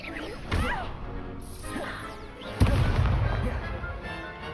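Hogwarts Legacy Incendio fire spells go off during a duel: sharp fiery blasts and crackling whooshes with a couple of strong impacts over a busy combat background.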